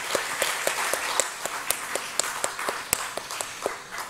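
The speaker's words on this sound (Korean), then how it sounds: "우리 자녀들 축복하는 마음으로 같이 함께 박수 한번 쳤으면 좋겠습니다." A church congregation applauding together to bless the children at a Friday worship service, a steady wash of many hands clapping at moderate volume, with no talk over it.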